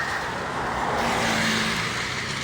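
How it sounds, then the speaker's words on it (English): Steady roar of cars driving by on a busy main road next to a trail, a continuous close traffic wash with tire hiss throughout and no clear gaps. "This part of the trail is right next to a main thoroughfare road, so you hear all the cars driving by."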